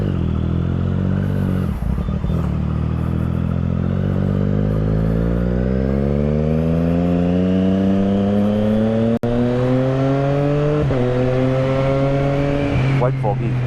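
Triumph Street Triple 675 motorcycle with an aftermarket exhaust, ridden on a foggy, freezing winter morning commute in Delhi, engine note steadily climbing through the gears with a brief shift dip, a continuous loud close drone.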